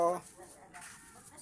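Chicken clucking in a rural barangay yard, a short burst of clucks at the start, close and fairly loud, then fading into quieter outdoor background with faint bird chatter.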